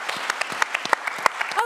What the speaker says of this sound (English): Applause for a wonderful film like this,